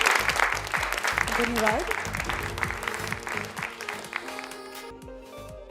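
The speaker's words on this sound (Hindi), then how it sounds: "एवरीवन सभी साथ में तालियां बजाएंगे" Audience applause at a textile fair, dense clapping filling most of the moment, with a brief thank-you spoken and music-like tones emerging as the clapping fades out near the end.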